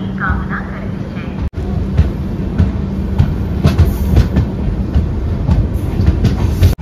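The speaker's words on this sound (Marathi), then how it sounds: "एक्सप्रेस प्लेटफॉर्म क्रमांक 2 पर आ चुकी है" A Konkan Railway LHB express train, with close rumble and rhythmic clicks of wheels over rail joints running steadily throughout, plus a brief dropout early on and a voice talking underneath.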